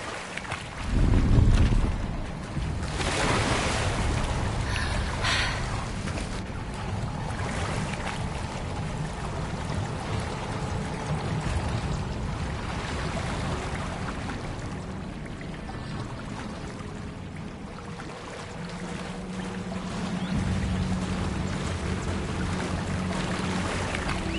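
Steady, rushing bubbling of water in the fantasy video game Hogwarts Legacy, a continuous broad wash of sound with a heavier surge near the start, carrying on evenly throughout without speech.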